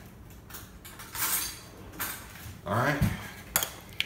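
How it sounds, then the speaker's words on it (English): A metal spoon scrapes and clinks against a glass jar while scooping out pepper jelly, a few short clattering strokes with a voice speaking briefly near the end. "I'm just gonna spoon it in there"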